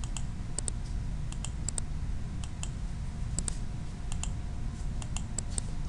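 Computer keyboard and mouse being used during a financial training session, with scattered light clicks and keystrokes in small clusters over a steady low background hum, no talking.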